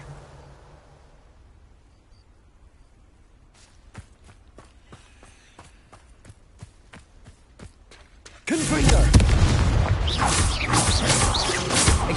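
Hogwarts Legacy Incendio and Confringo spells: after a run of light rhythmic footsteps, a sudden loud fiery, roaring blast erupts and keeps rushing for several seconds.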